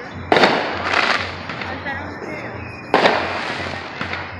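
Fireworks go off at a park in two loud booming bursts with crackling and smaller pops between them, as low voices talk in the background.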